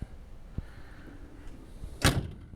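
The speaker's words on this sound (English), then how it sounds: "Doors shut very nice, and they should" A 1958 Chevrolet Corvette's door thumps shut once, firm and fairly close, after a few soft handling clicks against faint background noise.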